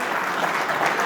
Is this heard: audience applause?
yes